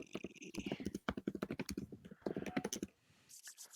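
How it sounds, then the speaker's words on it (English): Fast, furious typing on a computer keyboard, a dense run of close, sharp key clicks with brief pauses, tapering off near the end. "Somebody's furiously typing on their computer."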